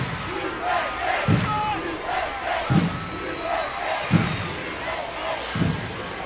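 Stadium crowd in Hartford cheering and chanting rhythmically at a women's international soccer friendly, USA versus Mexico, with heavy periodic thuds like stomping or drumming beneath the chant, loud and sustained.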